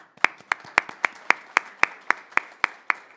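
Sparse, evenly spaced claps at a city council meeting honoring Charlie, about a dozen sharp hand claps in a steady rhythm from a single person or very small group.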